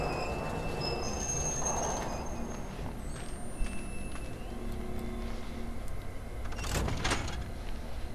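A mine cart is pulled in the video game Outlast 2, giving a rolling metallic rumble with thin squeals and scrapes, then a louder grinding burst near the end.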